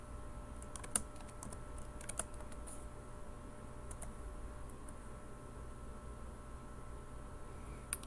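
Computer keyboard keys pressed in quick, irregular taps at a modest distance, the clicks spread over a low steady background hum with no voices.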